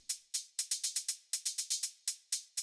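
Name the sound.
three layered hi-hats with LFO-randomized attack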